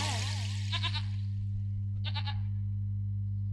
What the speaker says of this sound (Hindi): बकरी तो यूं घिचने घिचने कितना जा रहा है?